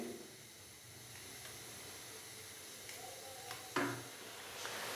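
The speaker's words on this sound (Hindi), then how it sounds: "अच्छे से हम इसको मिक्स करेंगे और मसाले को हल्का सा भून लेंगे 3 से 4 मिनट के लिए" Spices roasting in a pan with tomato paste and cumin for ginger chicken give a soft, steady hiss and sizzle, with a few brief clinks of a spoon stirring against the pan.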